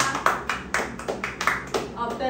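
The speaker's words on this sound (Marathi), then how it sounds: "सो टाळ्या वाजवा." Hands clap in a steady, even rhythm, about eight close, loud claps at a birthday gift unboxing, with no voices over them.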